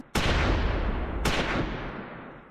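Mortar fire in the Close Combat 4 war game, Battle of the Bulge scenario: two heavy booming blasts about a second apart, each a sharp loud crack that rolls off into a long rumbling decay.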